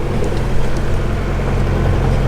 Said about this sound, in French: on vient de rallumer le moteur et Laurent, ben, il a fait faire sa magie.